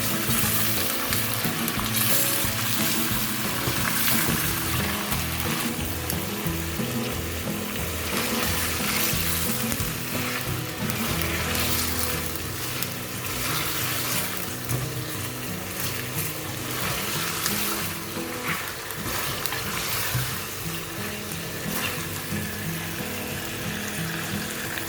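Chicken frying in a pan with garlic ginger paste while its water cooks off for achari chicken, a continuous loud sizzle and crackle with occasional stirring scrapes, close and steady throughout.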